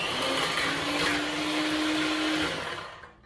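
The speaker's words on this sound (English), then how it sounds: "So now what we're going to do, we're going to mix the cream." Electric mixer whipping lactose-free whipping cream in a home kitchen, a steady motor whir running continuously for over two seconds before winding down, heard alone without talk.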